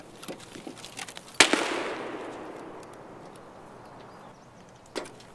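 Gunfire in the Escape From Tarkov video game: one loud, sharp shot with a long fading echo, followed later by a fainter second report, with faint scuffs and footsteps before it.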